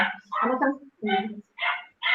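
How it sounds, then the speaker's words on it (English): A dog barks over a video call, about five separate short barks with gaps between them, heard a little thin and distant through the call line. "She has a dog."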